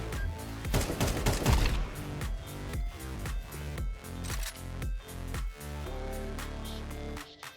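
Gunfire in a FACEIT video game match, a loud cluster of rapid shots at the start followed by a steady run of sharp, evenly spaced single shots, close and prominent.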